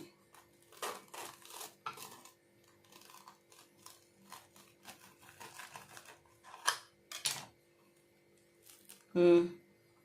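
A crispy fried semolina snack, spiced with masala, is cut through with a few sharp crunching cuts and a final loud crackle, close up under quiet kitchen sounds and a little talk.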